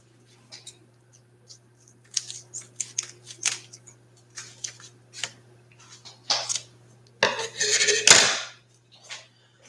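Scissors snip the top off a bag of chocolate, with a series of quiet, close clicks and crisp snips that end in a louder rustle of plastic against a faint background hum.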